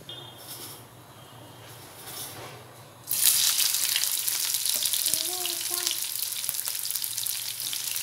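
Onions, green chillies and curry leaves drop into hot oil for a chicken fry, bursting into a loud, steady sizzle after a quieter start and carrying on with small spatters and stirring, no voices.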